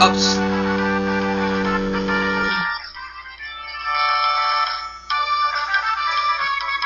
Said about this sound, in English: Yes, that's my ringtone.